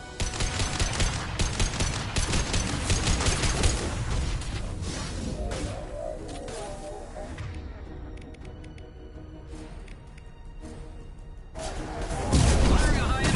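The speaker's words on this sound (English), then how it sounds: "Firing a high-impact shot." Heavy gunfire in Mass Effect 2 Legendary Edition combat, with high-impact shots among dense rapid bursts, a quieter stretch in the middle, then a loud booming impact near the end.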